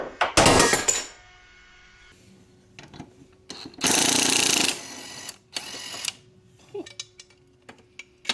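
Hand tools working to loosen the blade bolt on a lawn mower: a few loud bursts of ratcheting and metallic rattling separated by quiet gaps, with small clinks and knocks between them.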